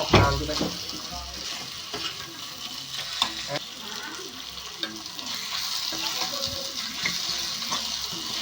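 Bitter gourd masala frying in oil in a pan, a continuous close sizzle with occasional stirring clatter and scrapes throughout, loud and steady, no talking.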